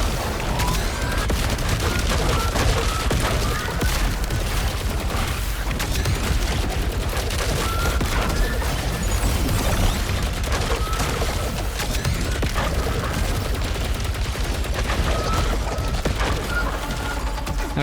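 Rifle fire from the video game Saros rattles as a dense, continuous wall of loud shots and booms that never lets up across the whole stretch.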